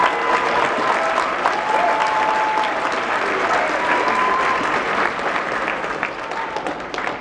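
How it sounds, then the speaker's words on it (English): A convention-style event audience gives a round of applause for the audio team, dense sustained clapping with a few voices mixed in, slowly tapering toward the end. "Let's give them a round of applause."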